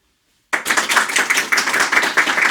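Half of a house concert audience claps on cue, starting abruptly after silence into a rapid, fairly loud patter of many hands with a loose rhythmic pulse.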